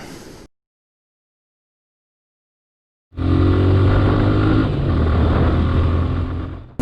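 A Suzuki Gixxer SF 155 motorcycle is ridden, its engine coming in loud and steady after a short silence, a close, sustained mid-pitched drone that holds through to the end.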